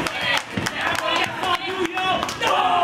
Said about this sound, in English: Oh, and a chop.